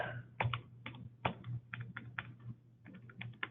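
A computer keyboard is typed on in short, irregular bursts of crisp key clicks, fairly close and quiet, over a low steady hum.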